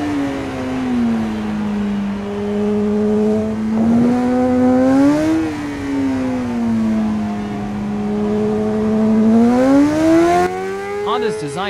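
A 2018 Honda CBR 600RR sportbike engine in the Ride 5 racing game drones loud and close without a break, its pitch climbing and dipping as the revs rise and fall through gear changes.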